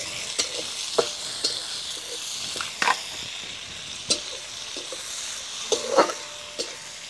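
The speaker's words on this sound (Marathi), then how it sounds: "आलं लसूण नंतर टोमॅटो पण टाकून घ्यायचे, ते छानपैकी परतून घ्यायचे" Onion, ginger, garlic and tomato stirred and frying in a pan over a village-style wood-fired stove, with soft continuous sizzling broken by repeated scraping and stirring clicks, close up and with nobody talking.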